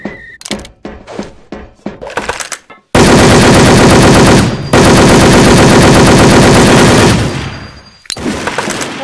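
Gunfire in the WolfTeam online shooter game: a few sharp single shots and short bursts, then long sustained automatic fire in two loud rapid streams, ending in more scattered shots.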